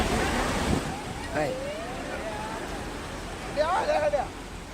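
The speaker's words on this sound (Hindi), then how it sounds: "नदी उफान पर है।" A monsoon-flooded river in spate rushes with a steady, broad roar, while faint voices and a few brief tonal calls rise above the water now and then.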